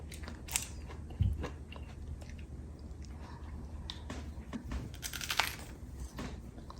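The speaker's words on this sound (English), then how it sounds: "we are having the sugar snap peas for snacking. Very crunchy, Josh, right now." Sugar snap peas are bitten and chewed, giving a few sharp, quiet crunches with soft chewing in between. The sound is close but faint against a hushed indoor background.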